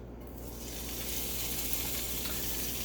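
Chopped bacon sizzles in a hot skillet with a steady, dense frying hiss that swells and holds, close and moderately loud with no voices.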